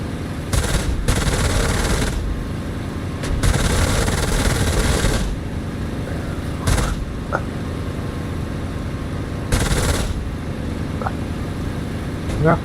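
Aircraft guns fire from a warbird in the DCS flight simulator game: several loud, sustained bursts separated by pauses, over a steady engine drone, with brief talk between bursts.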